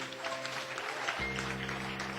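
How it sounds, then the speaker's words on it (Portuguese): Church congregation applauding, a steady broadband wash of clapping with a low organ or keyboard drone underneath that swells about halfway through. "Aplauda bem forte o Senhor."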